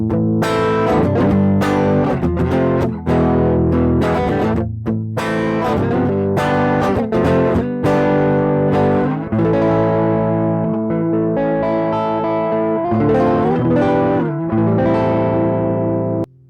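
A loud, gritty electric guitar through a Belodyer overdrive pedal with gain near 2 o'clock strums overdriven chords and riffs continuously, the crunchy tone ringing out without pause.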